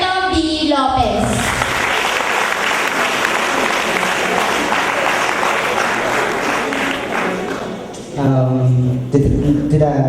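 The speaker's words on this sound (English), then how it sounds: "Let us all welcome, with a big round of applause, the Academic Affairs Officer, Mr. Alberto B. Lopez." Loud, sustained audience applause at a school junior-senior prom, steady clapping filling about eight seconds before it fades out and a voice speaks over a microphone.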